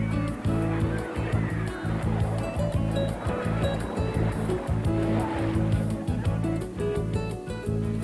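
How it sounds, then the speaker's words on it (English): A wave machine churns an indoor pool into constant crashing, splashing water, loud and close, with a steady rushing roar that does not let up. "The fun really begins when the wave machine is turned on."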